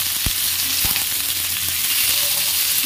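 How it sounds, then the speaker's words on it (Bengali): Onion frying in oil in a pan, a dense, even sizzle that holds steady throughout, with a couple of brief knocks of a utensil near the start and no speech. "পেঁয়াজটা একটু ভেজে নিই, চলো লাল লাল করে ভেজে নেবো মাংসের মতো করে"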